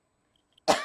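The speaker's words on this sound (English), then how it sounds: "sorry, I just need to cough again." A single close, dry cough bursts out after near silence and trails off briefly.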